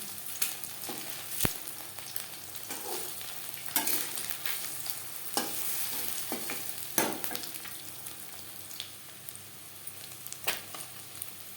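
A continuous sizzle of egg pakoras in hot oil, their light coating crisping, with sharp spits and stirring clinks breaking through the bubbling hiss, heard close and without speech.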